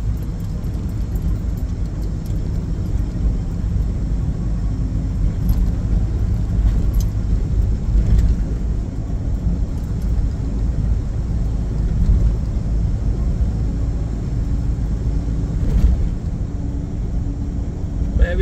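A car cruises along Highway 1 in Illinois, a steady low engine and road rumble with constant tire roar filling the cabin, even and continuous, with a faint voice in the background at times.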